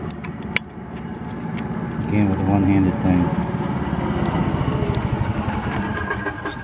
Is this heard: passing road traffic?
yes